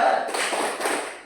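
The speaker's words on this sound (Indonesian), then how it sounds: "Ayo tepuk semangat." Students at a junior high school doing a spirit clap together, a quick burst of many overlapping hand claps, loud and close in a room.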